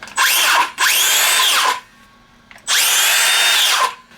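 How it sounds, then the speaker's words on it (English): A circular saw powered by an OUPES 1200 W LiFePO4 portable power station runs in two loud, whining bursts separated by a short quiet pause, each one spinning up sharply and winding down. "Circular saw."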